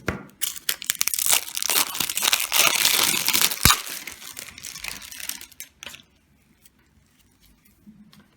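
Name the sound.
opening plastic packaging of black nylon bead thread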